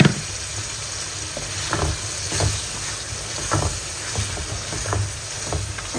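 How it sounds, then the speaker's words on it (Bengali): Soaked dried fish (shutki) in masala frying in a pan, a steady close hiss and sizzle broken by soft, irregular scrapes of stirring, heard alone with no voices. "শুটকির মশলাটা কষাই আসছে"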